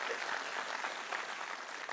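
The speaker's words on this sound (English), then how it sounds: "You can clap." A keynote audience claps in a dense, even wash of applause, steady and moderately distant for the whole moment, with no voices standing out.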